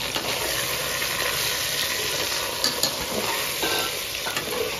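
Onions and masala fry for Moradabadi chicken biryani, giving a steady close sizzle with scraping stir sounds and small clatters from the pan.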